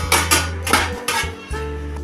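Steamed milk kozhukattai tipped out of a pot onto a plate make several sharp metallic clanks and knocks in quick succession, loud and close, with brief ringing between hits.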